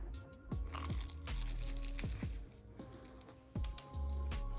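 Several crisp, loud bites into a flaky puff pastry egg tart, each a sharp crunch followed by crumbly crackling, spaced roughly half a second to a second apart, close up with no talking.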